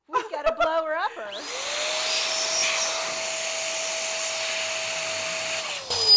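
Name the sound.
electric balloon inflator blowing up balloons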